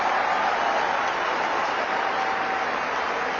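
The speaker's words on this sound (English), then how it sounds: "give the heartiest, loudest round of applause to the head coach and the support staff" Crowd applause at a T20 World Cup victory celebration for India's head coach and support staff, a dense, steady roar of clapping and cheering from a large gathering that holds loud and unbroken throughout.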